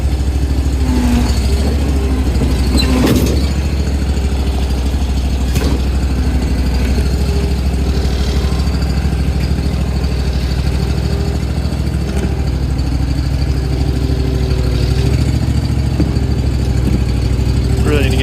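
A van engine idles steadily nearby with a trailer hitched behind, a constant low droning hum with a few faint knocks and clanks over it.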